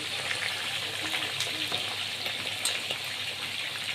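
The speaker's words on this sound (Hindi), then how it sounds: "और इसको लो फ्लेम पे डीप फ्राई करूँगा मैं।" Chicken deep frying in hot oil over a low flame, a dense steady hiss and bubbling with occasional small pops, close and moderately quiet, with no talking.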